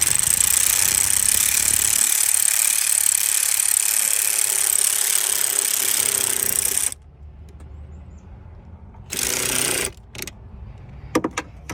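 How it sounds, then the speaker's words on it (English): Ratchet tightening an 8mm bolt onto the throttle body of a Honda Accord, a close, loud and steady clicking that runs for several seconds, breaks off, then returns in a short burst followed by a few scattered clicks. "We'll go ahead and tackle this 8mm bolt to go ahead and get it tightened onto the throttle body."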